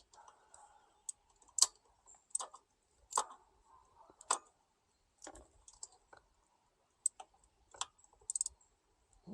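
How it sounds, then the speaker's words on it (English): A ratchet snugs down the intake manifold bolts on a Honda engine, giving close, crisp clicks in short irregular bursts separated by quiet pauses, with no talking. "go ahead and tighten these manifold bolts down"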